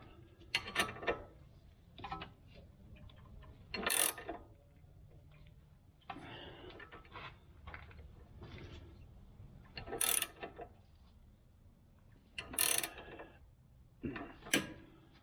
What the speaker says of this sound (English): Guess I could use the ratchet then.